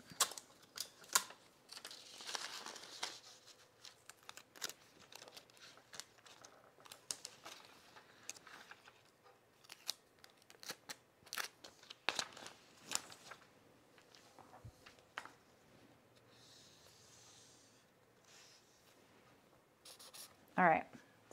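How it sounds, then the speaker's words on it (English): A pencil traces the hem line of a pullover camp dress pattern onto paper, making faint, scratchy, intermittent strokes with occasional paper rustling and a few sharper taps. "I've traced my hem there"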